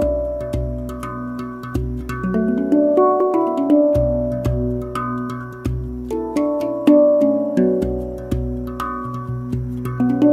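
RAV Vast tongue drum played with soft open-palm strikes, ringing tones overlapping in a steady flowing rhythm, close and resonant with no talking.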